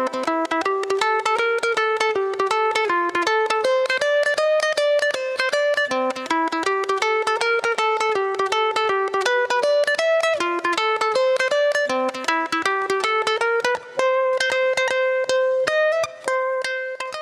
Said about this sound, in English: Let's take a listen to Evan playing through everything at full speed